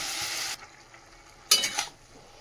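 Cabbage cooking with ginger paste, cumin, coriander and chilli in a pan: a loud, steady frying hiss for about half a second, then quiet, then a second short burst of sizzle as the pan is stirred.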